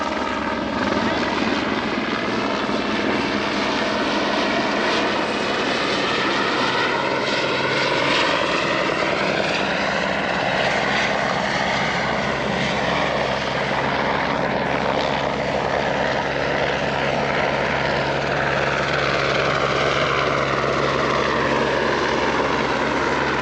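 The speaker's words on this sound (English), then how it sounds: "Got the helicopter here." A helicopter drones steadily nearby at a mountain paragliding launch site, its rotor and engine noise filling the air continuously, with a faint voice briefly underneath.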